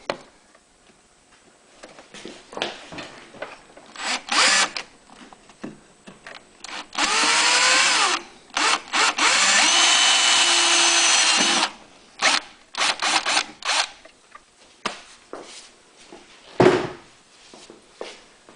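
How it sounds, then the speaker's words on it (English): A power drill fitted with a cut-down bit whirs in two long sustained bursts while a fuel kit is installed on a Honda EU6500is generator, surrounded by sharp clicks, taps and rattling of tools handled nearby. "I'm going to cheat just a little bit by using a cut down drill bit."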